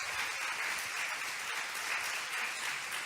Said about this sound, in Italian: questo è il primo applauso alla fine